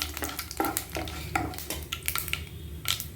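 Dried red chillies frying in hot oil in a pan for vegetable rava kichadi, a steady close sizzle broken by repeated scraping stirs and light clinks of a spoon against the pan, no talking.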